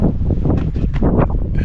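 Wind buffets the microphone on a hilltop camp in the Australian outback, a steady close rumbling gust with fluttering bursts throughout.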